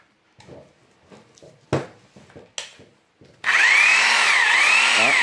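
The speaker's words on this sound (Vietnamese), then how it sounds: "Em cắm điện vào chạy máy thử cho anh em coi." A Dekton DK-RH2603A rotary hammer drill set to drill-only mode starts after some scattered handling clicks and knocks, then whirs loudly and steadily with a wavering motor pitch and no hammering.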